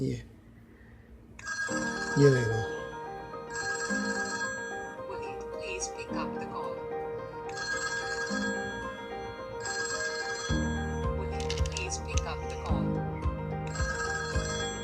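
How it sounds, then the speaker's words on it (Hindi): A custom phone ringtone plays, a melodic repeating tune in steady bursts, clear and close, with a voice speaking over it. "अब आप चाह रहे हैं कि मैं सुनूं कि ये रिंगटोन कैसी बनी है"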